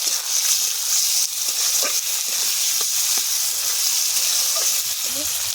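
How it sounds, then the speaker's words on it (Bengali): Prawns and onions fry in a pan with a constant loud sizzle, broken by soft scraping and clicks of stirring. "পেঁয়াজের সঙ্গে একসঙ্গে ভেজে নেবো"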